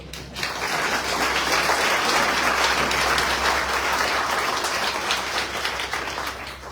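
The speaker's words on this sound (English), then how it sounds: "I will give you the opportunity to applaud" A crowd applauds steadily at a mayoral debate in Meridian, Mississippi, a dense wash of clapping that swells quickly and holds at an even level for several seconds before easing slightly.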